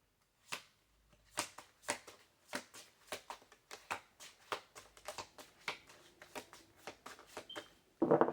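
Tarot cards being shuffled and pulled: a series of crisp, separate flicks and snaps at an uneven rhythm, quiet and close, with a brief louder rustle at the very end.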